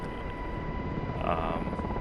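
A helicopter flying in the DCS flight simulator game, heard as a steady, close rotor and engine drone that holds evenly throughout with no break.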